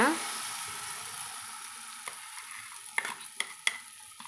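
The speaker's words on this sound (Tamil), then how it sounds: "இப்போ அரைச்சி வச்சுக்கிற சட்னி வந்து இதில் சேர்த்தி நம்ம வதக்கலாங்க" Ground pirandai chutney is added to hot oil and sautéed, giving a soft sizzle that fades under a few sharp taps and scrapes of the spoon against the pan near the end.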